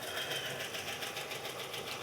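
A car from a collection idling steadily with a fast, even clicking tick over a dense mechanical hum, heard close and continuous with no talk.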